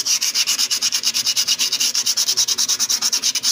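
Rapid rhythmic sanding strokes on drum brake shoes of a Peugeot Expert or Citroen Jumpy van, a steady back-and-forth rasp of coarse-grit sandpaper rubbing, close and loud with no talk.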